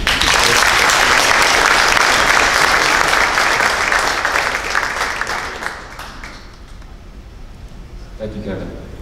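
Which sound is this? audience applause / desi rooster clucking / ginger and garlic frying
audience applause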